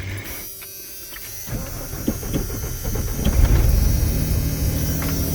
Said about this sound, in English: all right, we'll fire this truck up.